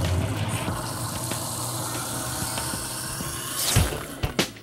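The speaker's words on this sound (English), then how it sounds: "run a little hot water and that will actually stop the freeze of the water and everything will go down the drain" Hot water runs steadily into a garbage disposer drain, a continuous broadband gush that swells and splashes louder near the end, with no one talking.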